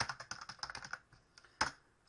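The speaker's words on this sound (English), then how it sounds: "So for your header, you just begin by typing it in normally." Typing on a computer keyboard at close range, a steady run of quick clacking keystrokes that pauses briefly before one loud final strike.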